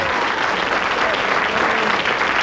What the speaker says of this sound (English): give him a round of applause as he goes there